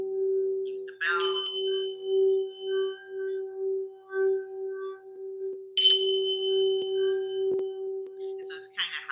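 During a sound therapy session, a ting sha bell rings out twice with bright, shimmering chimes several seconds apart, each fading slowly over a low sustained hum of a singing bowl.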